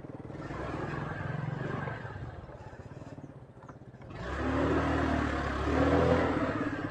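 A motorcycle engine runs along a village pathway, a steady drone that dips and then swells louder and closer as it passes.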